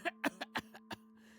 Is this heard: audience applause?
no